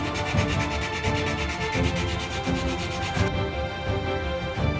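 Rhythmic rasping strokes of sandpaper rubbing against a metal knife blade, close up, repeating back and forth at a steady pace.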